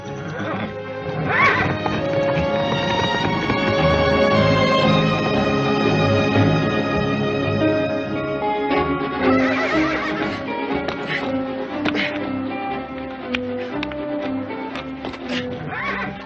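A horse whinnies loudly in a 1959 western television scene, with clip-clopping hooves and background music throughout.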